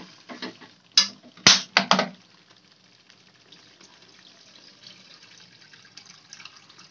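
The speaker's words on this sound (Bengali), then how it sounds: "এবার এতে অ্যাড করে দেবো জল।" Water poured into a pan of pomfret fish curry gravy, with a few sharp splashing bursts early on, then a faint, steady simmering hiss that trails off.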